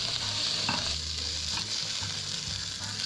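Squid frying and browning in a hot pan, a steady close sizzle with brief stirring scrapes throughout, no talking.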